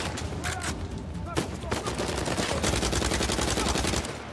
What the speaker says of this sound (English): Kind of shot Sam a little bit, but that's okay.